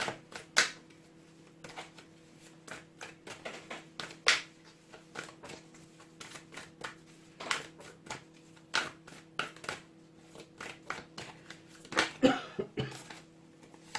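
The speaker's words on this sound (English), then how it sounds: "I just coughed and I didn't realise I was doing it." A single short cough rises near the end amid a run of soft, scattered clicks and taps in a quiet room.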